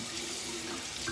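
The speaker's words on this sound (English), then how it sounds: "So we're gonna add just a little more water." Water runs steadily from a bathroom tap during a wet shave with soap and a razor blade, a soft continuous splashing stream with no voices.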